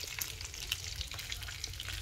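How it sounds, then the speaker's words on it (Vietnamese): Salted snakehead fish pieces frying in hot oil, a steady close sizzle with crackling pops throughout and no voices. "Cá lóc tấm câu muối chiên."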